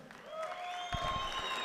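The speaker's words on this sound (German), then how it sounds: "Ladies and Gentlemen, großen Applaus, Ruslan Chagayev." A crowd at a boxing event applauds as a fighter is introduced, scattered claps swelling after a moment under sustained rising whistle-like tones, moderately distant and not very loud.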